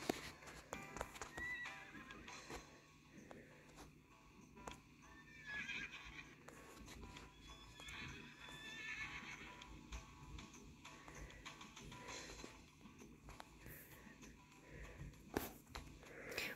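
Horse whinnies and steady clip-clop hooves from the Roblox game Wild Horse Islands play at low level over a busy game soundscape, while a person talks quietly.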